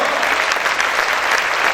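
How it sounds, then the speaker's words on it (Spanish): A church congregation claps loudly and steadily during worship, a dense continuous wash of many hands filling the room without a break. "Aplaude, aplaude fuerte al Señor."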